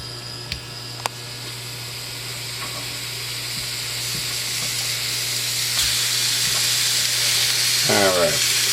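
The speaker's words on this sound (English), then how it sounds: "Have a nice hot frying pan, and what we're going to do is just cook it to render off all the fat" Salt pork slices sizzle steadily in a hot frying pan, a continuous close hiss that grows slightly louder, with a couple of utensil taps and a brief scrape near the end.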